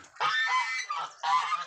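A goose at a duck farm gives three loud, harsh honks in quick succession, each one close and clear.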